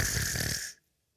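Voice imitating loud snoring, a single raspy rattling snore close and loud that cuts off abruptly into silence.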